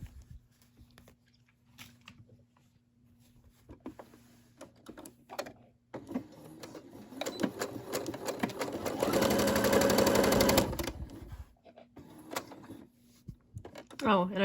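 A Brother SE600 sewing machine stitches fabric for napkins, coasters and placemats, with a steady whirring run of about two seconds up close, framed by lighter handling clicks and fabric shuffling.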